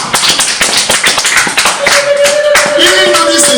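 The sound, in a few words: congregation applauding in church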